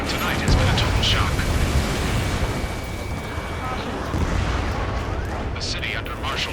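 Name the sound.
gunfire in video game Ace Combat 7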